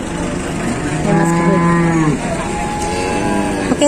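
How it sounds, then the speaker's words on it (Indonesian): Jumbo cattle at a livestock market moo loudly and close by, with several long drawn-out calls one after another over background crowd noise. "Nih, sapi jumbo juga masih berdatangan."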